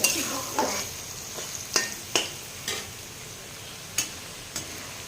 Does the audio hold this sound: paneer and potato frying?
yes